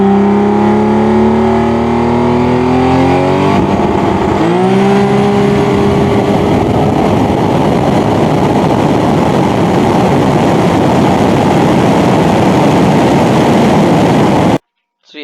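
A turbocharged BMW E46 running high boost accelerates hard, its engine note climbing steeply before shifting into a loud, rough roar that holds for several seconds close by, then cuts off abruptly.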